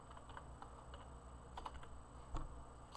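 Computer keyboard typing while coding in C#, a run of quick, light key clicks with a few sharper taps, close and steady with no talk.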